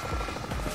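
Helicopter rotor in a blocky war video game, a steady loud thudding drone filling the whole moment with no pauses.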